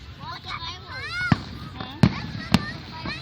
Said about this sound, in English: Are y'all looking at the fireworks?